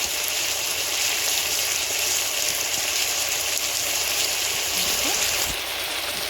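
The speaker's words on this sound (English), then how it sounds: "So you can hear the sound of cooking." Potato stew with pepper and turmeric simmering and sizzling in a pot, a steady bubbling hiss throughout at close range, with one brief spoken word near the end.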